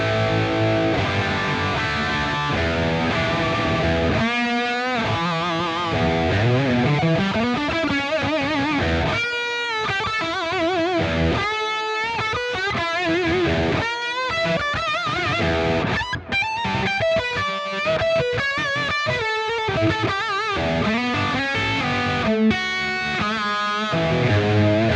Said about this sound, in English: And then we've also got the lead channel